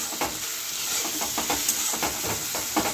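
Tomatoes and salt dropped into a hot pan of oil, a loud close hiss of sizzling with rhythmic scraping as the spatula stirs, steady for a few seconds and no talking.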